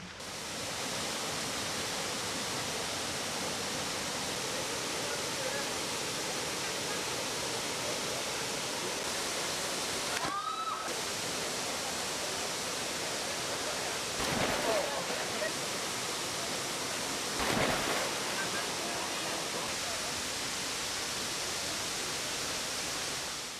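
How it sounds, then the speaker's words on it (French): The Kuang Si waterfall in Laos, cascading into turquoise pools amid lush vegetation, sends out a steady broadband roar of falling water, constant and close, with a few brief disturbances along the way. "En arrivant aux chutes du Quan Si"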